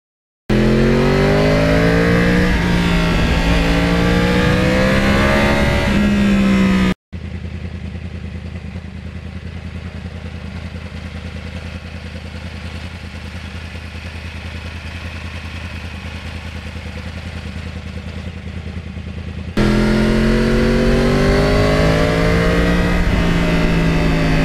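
A Yamaha R1 Crossplane 1000 motorcycle engine with a quiet exhaust revs hard and rises in pitch, drops to a steady cruising drone while riding, then revs loudly again near the end.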